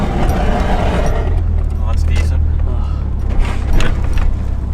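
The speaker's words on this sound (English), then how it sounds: "It's rubbing heavy because these tires are so much bigger." A car drives on oversized tires that rub against the body, giving a steady low rumble and drone with intermittent scraping and knocking. Voices talk over it at close range.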